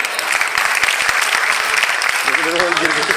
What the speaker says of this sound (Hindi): सबसे अनुरोध की कृपया तालियां बजा करके स्वागत करें।